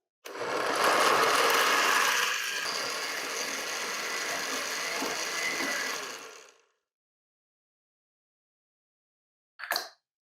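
A blender whizzes salsa with a shot of citrus juice and a dose of salt, a loud continuous motor roar for about six seconds that cuts off abruptly, followed by a short separate burst near the end.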